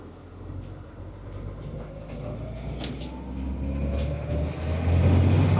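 A 10-metre motorhome's engine purrs low and steady from inside the cabin while driving, a smooth rumble that rises gradually as the vehicle picks up speed, with faint rattles and clicks now and then.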